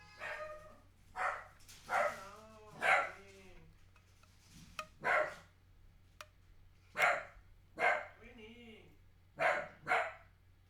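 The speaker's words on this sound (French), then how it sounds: "Ok, t'as fini de japper là? C'est le chien." A dog barks repeatedly in spaced bursts, fairly close, over a low steady hum.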